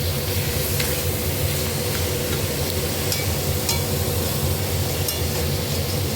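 Crab fries in a thick spiced masala in a pan, a loud, dense and continuous sizzle with a low rumbling texture and occasional faint clicks of stirring.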